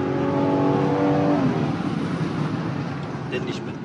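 Rolls-Royce Wraith accelerating hard to overtake on the road, engine note rising steadily for about a second and a half, then a loud, sustained roar of engine and road noise, close and continuous.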